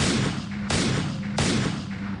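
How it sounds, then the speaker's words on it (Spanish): Two loud gunshots about a second apart, each a sharp blast trailing into a brief rumble, with no talking. "Para su amigo, fueron 4 los disparos."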